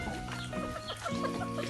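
Chickens cluck in short, repeated bursts close by, with a steady background hum and no talking.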